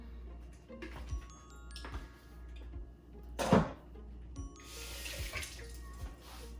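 Liquid is drained from a pot of cooked birria. It pours and trickles at moderate loudness, with a louder splash midway and a broader rush of water near the end.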